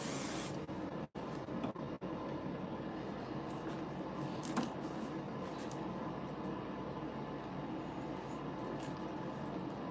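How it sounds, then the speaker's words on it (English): A Sebastian Shaper hairspray can hisses a fine mist onto hair during a salon repair of damaged, lightened hair. The spray runs as a steady, faint, close hiss with a few brief clicks and no talking. "Spray a little bit of our Sebastian Shaper just to help seal the rest of the cuticle."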